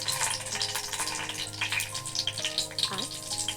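Dry red chillies and curry leaves frying in hot oil in a pan for a sambar tempering, a steady bright sizzle and crackle under a constant hum, with soft voices in the background.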